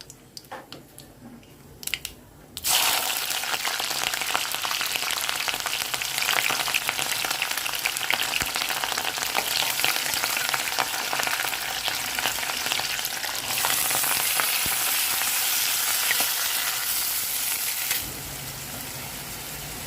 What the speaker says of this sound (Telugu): కడాయి పెట్టి నూనె పోసానండి ఆవాలు వేస్తున్నాం